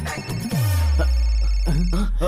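A steady electronic phone ringtone tone plays throughout, with voices and swooping sound effects over it.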